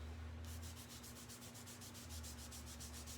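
Wet baby wipe rubbed back and forth over painted wood to distress the finish, a steady rhythmic scrubbing close by, with a low constant hum underneath and no talking.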